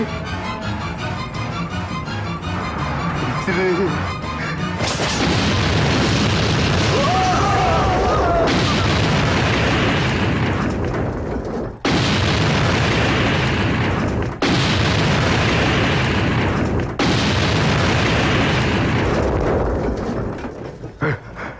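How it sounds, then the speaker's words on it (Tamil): Heavy, roaring explosive blasts come in several long waves, loud and close, with voices mixed in beneath the rumble. "வெடி"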